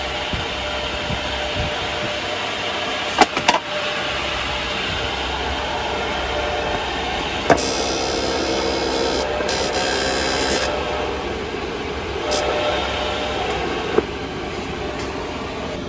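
A Chinese diesel air heater with its covers back on runs steadily, producing a constant broadband fan and combustion roar close by, broken by a few sharp clicks and brief hissing bursts, with no talking.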